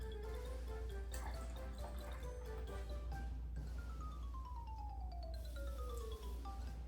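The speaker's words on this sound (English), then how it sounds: "Last, you pour the warm water with the yeast into the bottle." Warm water mixed with yeast being poured into a bottle for an elephant toothpaste experiment, a faint glugging trickle with rising tones as the bottle fills, quiet over a low steady hum.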